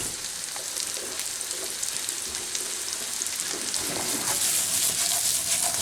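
Chopped onions going into a hot pan with butter and brown sugar, giving a steady, close crackling sizzle that grows slightly louder toward the end, with no talking over it.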